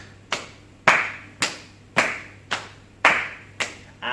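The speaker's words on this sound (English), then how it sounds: "we're going to bring the taps and claps in." Hands clap steadily during a seated cardiovascular exercise routine, about eight sharp, close claps evenly spaced at roughly one per half second, with no voices.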